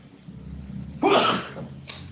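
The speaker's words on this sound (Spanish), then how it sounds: "Yo podría, por ejemplo, estornudar." A single sneeze from a person, a sharp loud burst of breath that swells and fades over about half a second, followed by a short faint sniff, with no talking around it.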